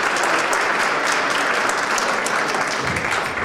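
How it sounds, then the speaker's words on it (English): Loud, dense applause fills an inaugural ball hall as a crowd claps steadily, easing slightly toward the end. "I want us to give a big applause to the Pennsylvania community for supporting the Konobo Statutory District Association"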